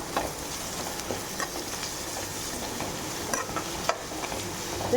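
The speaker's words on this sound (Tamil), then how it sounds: "எல்லாத்தையும் வதக்கிக்கலாம்" Steady sizzling of ginger, chillies and curry leaves sautéing in a hot pan, with occasional scraping and stirring clicks, close by and fairly quiet, with no voices.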